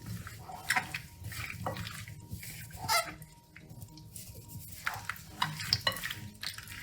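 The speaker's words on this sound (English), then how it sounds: "A teeny amount of almond extract. I'll mix it all through." Spoon stirring almond extract through cherry cobbler filling in a bowl, soft wet sloshing and light scraping, close and quiet with irregular strokes.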